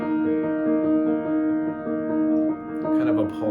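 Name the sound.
piano left-hand accompaniment figure, pulsing and repetitive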